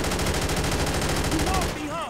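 Dense rapid gunfire from GTA 5 rattles loudly and continuously for most of the moment, thinning near the end as faint whistling tones rise over the din.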